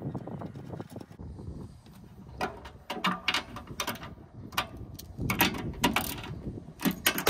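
Small metal nuts being fitted and tightened onto a Jandy JXI pool heater manifold: irregular clicks, scrapes and light metallic clinks, close and moderately quiet, with occasional handling bumps.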